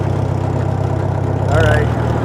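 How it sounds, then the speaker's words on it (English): A Farmall H tractor runs steadily at idle, its hydraulic pump whining over the low engine drone, with a brief rise in tone near the end. "You can hear how whiny that pump is."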